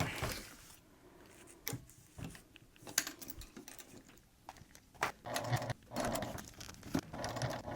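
A home sewing machine stitches a fabric hip bag in short, uneven bursts with stops and clicks between runs, fairly quiet and close.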